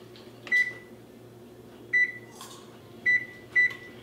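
An electronic oven control panel sounds four short, clear beeps while being set to preheat to 275 degrees Fahrenheit. The beeps come at uneven intervals over a quiet background hum, with soft clicks of the buttons being pressed.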